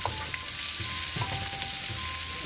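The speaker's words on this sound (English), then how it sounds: "And we'll just stir frying this up." Bok choy with garlic and ginger sizzling hard in hot olive oil, a constant crackle with a few intermittent stirring scrapes, close and uninterrupted by speech.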